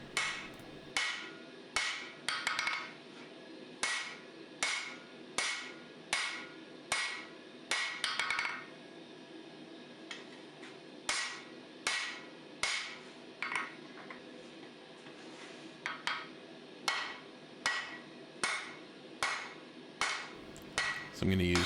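Steady, rhythmic hammer blows ring on hot steel as the fuller of a dagger is forged at the anvil, dozens of sharp metallic strikes in bursts with short pauses, close and loud.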